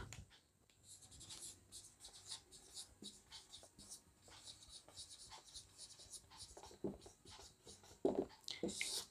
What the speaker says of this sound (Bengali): এইবার আমি লিখব পূর্ববর্তী ঘটনা